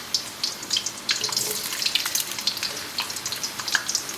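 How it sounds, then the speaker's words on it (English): Potatoes for Belgian fries sizzle in hot oil during their first frying, with a close, continuous crackle broken by sharp bright pops. "So here, it looks like it's frying okay, so I'm going to start adding about a handful at a time."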